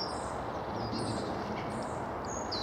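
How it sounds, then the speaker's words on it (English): Birds call in a sweet chestnut coppice woodland in winter, with thin high chirps and short whistles scattered over a steady outdoor rumble, fairly distant and faint. "More bird sound now,"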